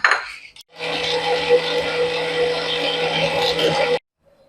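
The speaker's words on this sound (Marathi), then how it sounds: "पाणी घालून आपण मिक्सरमधनं फिरवून घेऊया" A mixer grinder blends curry leaves and cumin with a little water into a paste, whirring loudly and continuously for about three seconds after a short start-up burst, then stopping abruptly.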